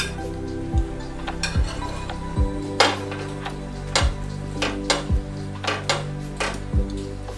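A bread sandwich toasts in a pan and is then flipped: a spatula scrapes and clinks against the pan at a steady rhythm over a faint, continuous frying sizzle.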